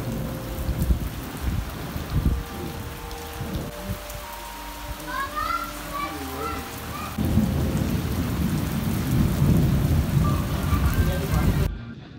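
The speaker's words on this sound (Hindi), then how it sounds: "अब देखें इंतहाई तेज़ बारिश है जी" Heavy rain pours down in Panjni, Azad Kashmir, in a dense, continuous hiss, with rumbling thunder underneath and a few brief voices.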